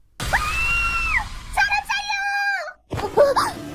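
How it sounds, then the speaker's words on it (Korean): A woman screams outside as a sound effect in a narrated comic, with several loud, drawn-out shrieks and wails in succession, separated by brief pauses. "돌연 밖에서 여성의 비명이 들려왔다"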